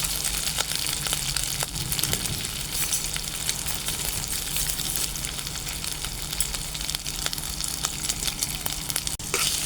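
Minced pork sizzles steadily in a hot pan for kimchi fried rice, a continuous crackling fry at moderate volume with occasional stirring clicks and no talking.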